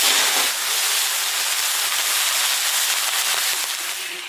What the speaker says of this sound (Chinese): 糖色冒泡，加一点点开水